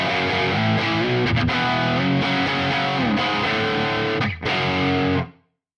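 Doubled electric guitar played through a CorOS 3.0.0 delay effect with the delayed signal turned up over the dry, heard alone: a steady, distorted wash of sustained chords with echoing repeats that rings out and stops near the end.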